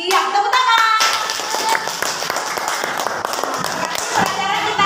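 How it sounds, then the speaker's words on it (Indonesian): A group of children claps in a classroom, steady scattered hand claps with voices and chatter mixed in throughout. "Iya, tepuk tangan."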